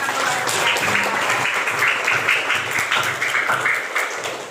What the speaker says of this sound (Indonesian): Tepuk tangan buat anak kelas 6.